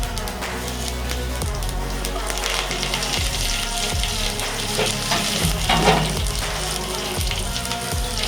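Cumin, mustard seeds and chana dal spattering and sizzling in hot oil for a ridge gourd chutney tempering, a steady close crackle with occasional stirring scrapes and no talk.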